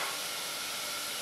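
Garlic sautés in a hot pan, giving a steady, bright sizzling hiss that stays even and close throughout the short moment.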